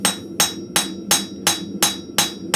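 A light hammer of about one pound strikes steel at a blacksmith's forge, eight sharp, evenly spaced ringing blows, close and loud, with no talk.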